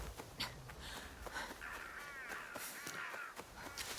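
Crows caw in the game Assassin's Creed Shadows, a few harsh calls scattered over a steady ambient background, fairly faint and not very close.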